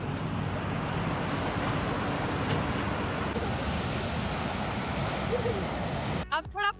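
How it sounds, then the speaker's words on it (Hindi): Sea waves washing onto the beach at Langkawi, a steady broadband roar of surf with no distinct breaks, continuous and fairly even in level, ending in a brief cluttered burst of handling noise. "और पीछे आप पानी का शोर सुन सकते हैं।"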